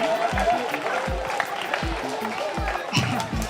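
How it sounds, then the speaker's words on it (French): An audience applauds at a children's philosophy colloquium at the Lycée Français Charlemagne in Pointe-Noire, Congo; moderate clapping runs over a series of regular low thumps, with some voices in the room. "Applaudissez s'il vous plaît."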